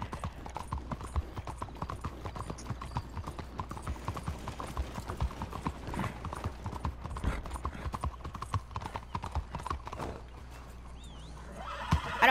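Steady rhythmic hoofbeats clip-clop continuously at a walking pace in Red Dead Redemption 2, with a horse whinny near the end, fairly quiet and even.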